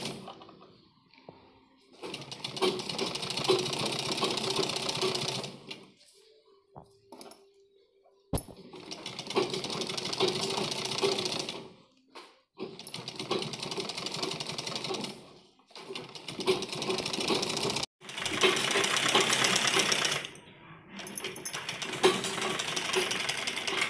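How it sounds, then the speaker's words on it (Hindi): A sewing machine stitches piping onto a kurti back neck in long, fast, steady runs of mechanical rattling, broken by short pauses between bursts, close and clear with no talk. "और एक पैर की सिलाई हमें इस पर लगानी है।"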